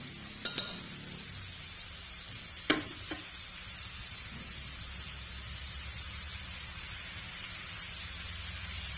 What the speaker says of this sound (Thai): เราก็จะใส่ปลาลงไปเลยนะคะ